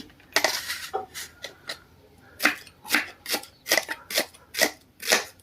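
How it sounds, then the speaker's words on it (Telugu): Onion thinly sliced with a knife on a board by a practised hotel cook, a fast run of crisp close chopping taps in quick irregular bursts with short pauses. "నెక్స్ట్ ఉల్లిగడ్డ అండి, చూస్తున్న విధంగా కట్ చేసుకోండి. సన్నగా ఈ విధంగా చీల్చి"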